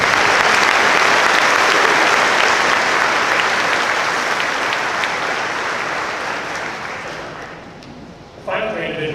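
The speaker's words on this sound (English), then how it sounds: "Please give them a round of applause." Sustained, loud applause from a large audience at a commencement ceremony, fading slowly before a voice begins speaking near the end.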